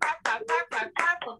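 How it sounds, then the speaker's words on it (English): Six distinct hand claps ring out in a steady rhythm in a comedy bar, crisp and close, each separated by a short gap. "So can I get a clap."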